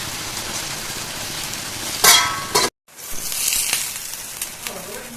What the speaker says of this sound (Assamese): তাৰপিছতে এইবাৰ লৰাই দিছোঁ অকণমান।